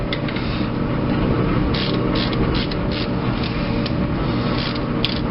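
A ratchet working loose a 14mm hex-head bolt on the timing chain tensioner of a 1987 Toyota 4Runner 22RE, a rapid continuous clicking close up with brief bursts of brighter strokes.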